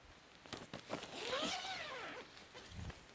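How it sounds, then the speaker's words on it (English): Zipper being pulled open on a tent skylight panel with bug-proof mesh, a drawn-out rasping zip rising and falling over about a second, with soft handling rustles before and after. "You can unzip them from either side."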